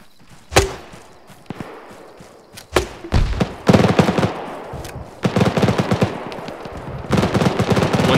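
Gunfire and grenade launcher shots crack through a battle in the video game ArmA 3 SOG, with sharp single reports followed by dense, sustained bursts of rapid fire and booming impacts.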